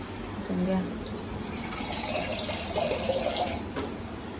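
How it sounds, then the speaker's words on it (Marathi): Water poured into a hot pan on a gas stove, a splashing, filling rush under a woman's speech, fairly close and lasting several seconds. "हे आपल्याला थोडं याच्यात पाणी टाकायचं आहे."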